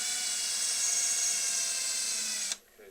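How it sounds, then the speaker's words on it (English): A small power drill with a 3mm bit whines at a steady high pitch while drilling out plugs, close and continuous, then stops abruptly near the end; no talking. "to remove the plugs I just use a 3mm drill bit"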